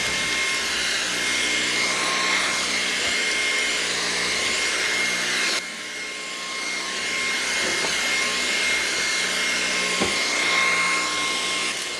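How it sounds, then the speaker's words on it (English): A Levoit LVAC-300 stick vacuum cleaner whines steadily and loudly, briefly dipping midway as if moved, then continuing at a constant drone. "So I'm going to go grab the new Lavoid LVAC-300 vacuum cleaner, and we're going to clean this up."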